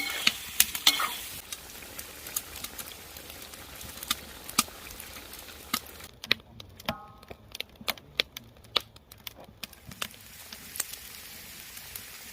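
Meat with fat-tail lard frying outdoors in a pan: a steady crackling sizzle broken by frequent sharp spatters and spoon taps, close and fairly quiet, with no talking.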